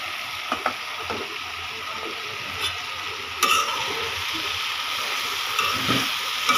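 Vegetable bhaji sizzles in a pan, a soft continuous frying hiss broken by occasional clinks and scrapes of a utensil against the cookware, close and moderately quiet.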